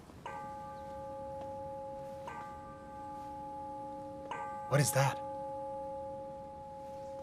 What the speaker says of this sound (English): the bell means it's time for stewards to be paid